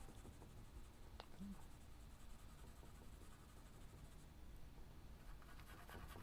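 An F pencil moves over paper in soft, faint scratchy strokes, steady and continuous with one or two small taps, quiet and close with no voice.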